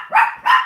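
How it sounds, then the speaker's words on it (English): Puppies give two loud, close barks in quick succession, each a short sharp yelp. "The puppies are going to flip out until she gets in the house now."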